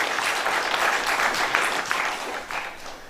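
A conference audience at a university international conference claps steadily after a presentation, a dense, even round of applause that thins slightly toward the end.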